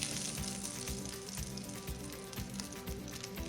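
Salmon fries in hot grease with a steady, dense sizzle and crackle. The frying runs continuously and close up, with no voices over it.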